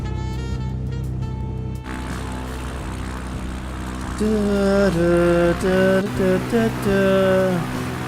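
Light aircraft engine in a flight simulator, a steady propeller drone that climbs into a higher, stepped tone as the throttle opens.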